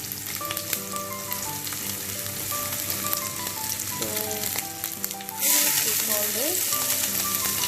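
A cinnamon stick frying in a pan for vegetarian chicken, giving a continuous close sizzle that swells louder near the end, heard under background music with no talk.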